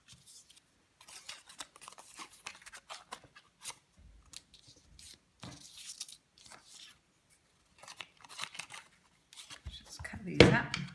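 Scissors cut through stamped paper blossom shapes for a handmade card in a series of short, crisp snips and rustles. The sound is close but fairly quiet, and it builds to a louder crunchy cut at the end.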